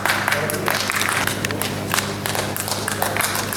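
An audience applauds to welcome Syed Noor at a glamorous stage show of past and present film stars. Dense, loud, steady clapping and crowd noise fill the whole stretch.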